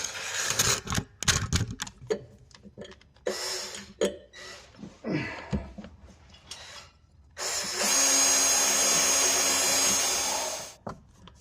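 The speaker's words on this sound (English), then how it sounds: "that is a lot of metal to drill through" A power drill bores through metal beneath a Hyundai Ioniq 6 during a trailer hitch installation, heard as a series of short, uneven bursts of grinding and clatter followed by a sustained, loud drilling whine lasting about three seconds.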